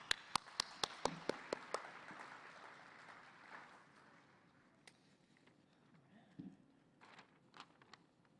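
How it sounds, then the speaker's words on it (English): Banquet audience applauding Spirit Award winners: a few sharp, distinct claps at first, followed by a faint scattered patter that thins out with occasional isolated claps, fairly quiet overall. "Let's give a final applause to all of our Spirit Awards."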